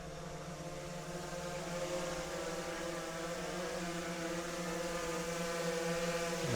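A DJI Phantom 4 Pro version 2 drone hovers close by with a steady, high-pitched propeller whine and rotor buzz. It holds nearly constant loudness, dipping slightly as it turns, with no talking.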